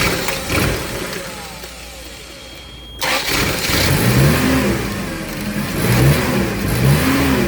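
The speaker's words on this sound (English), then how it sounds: "So the idle RPMs will go all over the place, and I'll let you witness it for yourself." A car engine with an erratic idle cranks and catches, then runs with its revs rising and falling in uneven swells, loud and close, with no talking over it.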